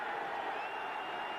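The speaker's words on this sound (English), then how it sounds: "a roused St. Louis crowd appreciating the defensive work" A St. Louis football stadium crowd at a 1984 Bears–Cardinals game gives a steady roar of cheering and applause, broad and continuous throughout.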